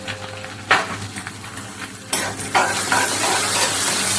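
Cleaned curry leaves fry in hot oil with a pinch of turmeric for a flat bean and garlic stir-fry. A steady close sizzle is broken by two sharp crackling bursts, with spatula stirring and pan scrapes throughout, and no talk.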